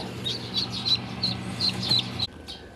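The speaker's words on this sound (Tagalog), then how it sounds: "Okay, ito na po yung apat na sisiw. Ang lulusog po nila." Newly hatched heritage chicks, four of them, peep in a rapid run of high, thin chirps, close and fairly clear over a low background hum, falling quiet near the end.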